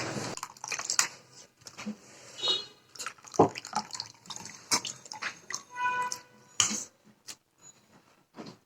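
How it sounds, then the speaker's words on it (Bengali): Cold water is poured and splashed over homemade butter from cream while making ghee. Intermittent splashes and drips come up close and fairly quiet, with pauses between them. "এখানে আমি ঠান্ডা পানি দিচ্ছি"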